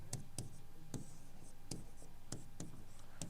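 Chalk or a marker taps and strokes across a classroom board during a geography lecture on temperature, producing sharp, evenly spaced knocks over a steady background hum.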